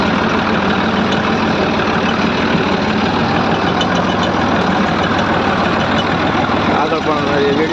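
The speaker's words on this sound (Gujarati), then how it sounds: "જો આ કપાનો ટ્રેક્ટર છે." A cotton-loaded tractor's engine runs steadily at a rural marketing yard in Ranpur, a constant close low rumble throughout with busy background noise and voices.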